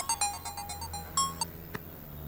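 A phone ringtone for an incoming call rings out in a short run of bright, evenly spaced electronic beeps, close and fairly loud, with a sharper click near the end and no one talking.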